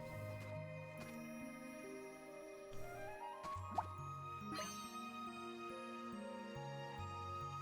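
Water drips and plops in a watery scene from the video game Fantasian Neo Dimension, a steady run of soft droplets layered over a gentle melodic music bed, with a few brighter splashy plinks standing out near the middle.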